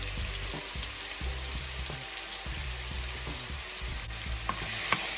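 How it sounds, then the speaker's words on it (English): Vegetable noodles with mushrooms in sesame gochujang sauce being stirred in a frying pan, a loud continuous sizzle with scraping and low knocking from the utensil, no talk. "Now just give it a good stir."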